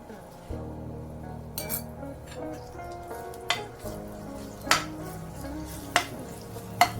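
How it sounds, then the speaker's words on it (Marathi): Seven or eight coarsely crushed garlic cloves drop into hot oil and fry with a soft sizzle. Sharp metal clinks of a utensil against the pan sound at intervals over a faint tonal background. "आता मी यात ह्या लसूणच्या सात आठ पाकळ्या ओबडधोबड ठेसून घेतल्या होत्या त्या टाकत आहे"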